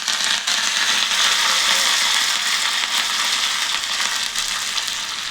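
Curry leaves dropped into hot oil for the tempering of an old-style tomato dal, giving a steady, bright sizzle and crackle. The frying is close and loud and lasts the whole stretch, with no talking over it.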